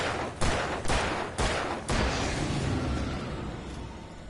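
Rapid gunshots in the Alan Wake video game: a handful of sharp, loud reports spaced about half a second apart, followed by a sustained noisy rumble as the shots fade.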